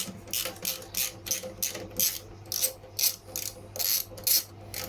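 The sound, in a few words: ratchet with 13 socket undoing a cylinder roller bolt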